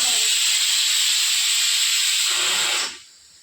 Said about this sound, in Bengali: আমার সিটি মেরে দিয়েছে, আগে এটাকে বন্ধ করে তারপরে